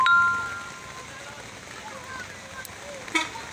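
Rain falling on a roadside during roadwork on a landslide-damaged road, a steady soft hiss of drops with faint clinks, quieter after a louder start.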